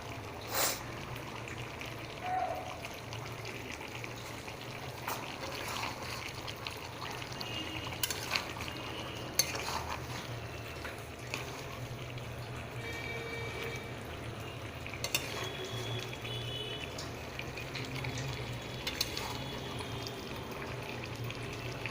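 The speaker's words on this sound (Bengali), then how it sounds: "চিকেন কষাচ্ছি" Chicken kosha being stirred and fried in a pan in a home kitchen, a steady low sizzle with scattered scraping clicks from the stirring running throughout, moderately near.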